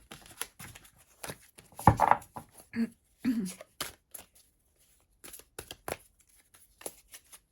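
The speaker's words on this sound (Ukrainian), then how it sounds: "Я зберу всі карти і подивимося" Playing cards being shuffled and riffled in short irregular bursts of crisp flapping, close by, with quiet gaps between.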